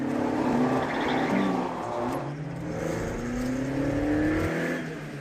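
Alpine sports car being driven hard, its engine revving and shifting through rising pitch sweeps, close and fairly loud with steady road roar and no talking.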